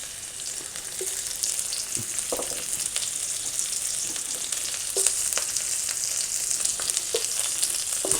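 Roots and ginger sizzle steadily in a hot pan, a continuous frying hiss with a few soft clinks and stirring scrapes scattered throughout, fairly quiet and close, with no voices.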